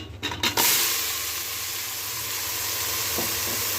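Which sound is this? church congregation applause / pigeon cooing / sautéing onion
sautéing onion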